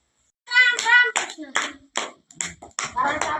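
A few schoolchildren at a village school clap in short irregular bursts, close and fairly loud, with a voice mixed in among the claps.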